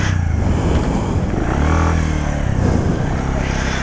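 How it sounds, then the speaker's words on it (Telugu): Bajaj CT100 motorcycle fitted for both petrol and electric drive, its petrol engine starting up close and loud with a chugging, rattly idle and a short surge partway through. "ఇప్పుడైతే మనం ఎలక్ట్రిక్ను ఆఫ్ చేసి పెట్రోల్ స్టార్ట్ చేయబోతున్నాం"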